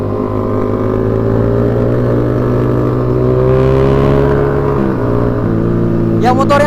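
Modified motorcycle exhausts, including a Kawasaki Ninja, rumble loudly and steadily during a group night ride, a continuous layered engine drone with rising revs and a brief higher whine near the end, with voices mixed in.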